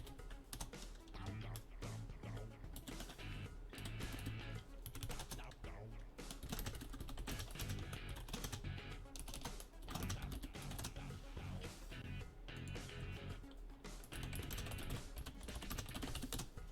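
Keys clatter steadily on a computer keyboard in a rapid, uneven rhythm, close up, while a person speaks over the typing at times.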